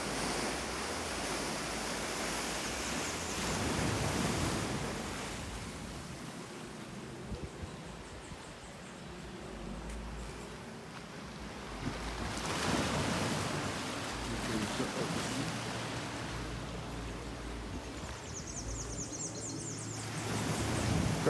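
Surf washing onto the beach at Holetown, St. James, Barbados, a steady broadband wash with swells rising and falling every few seconds, mixed with wind noise on the microphone and no talk.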